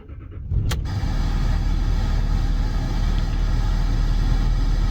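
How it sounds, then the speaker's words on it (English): Land Rover Discovery engine cranking and firing up at once in sub-zero cold after its fuel-burning heater has run, then settling into a steady, loud close idle with no talk. "the car fired up immediately"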